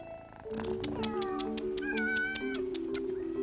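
Cats at a large cat sanctuary meow, several clear, drawn-out meows in close succession over a quiet indoor background, nearby and fairly loud.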